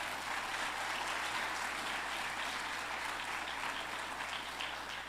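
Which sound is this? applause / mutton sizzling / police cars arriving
applause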